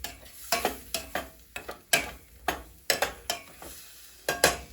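Ramen noodles sauteed and stirred in a pan, with steady frying sizzle under repeated scraping, clattering strokes of a utensil against the pan at an irregular rhythm.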